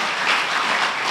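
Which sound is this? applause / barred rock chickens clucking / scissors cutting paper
applause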